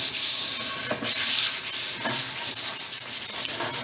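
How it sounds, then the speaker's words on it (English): A wooden board is sanded by hand with close, loud, rhythmic scraping strokes that repeat back and forth continuously with no talking. "While that's going on, I'll sand down the other one."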